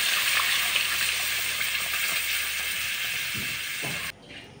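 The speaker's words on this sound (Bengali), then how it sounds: "মশলা থেকে যখন এইরকম তেল ছেড়ে দিয়েছে তখন এর মধ্যে আমি এবারে জল দিয়ে দেবো।" Water goes into a spiced onion-paste curry base for koi fish at a village cooking fire, a dense steady hiss and gush that runs for about four seconds before cutting off abruptly.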